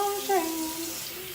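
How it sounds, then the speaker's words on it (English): Tap water runs steadily into a sink while hands are washed in a home kitchen before making pizza, a continuous close hiss with a brief louder splash early on. "so we're gonna wash our hands"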